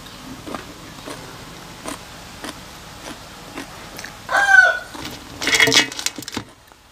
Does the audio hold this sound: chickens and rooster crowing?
yes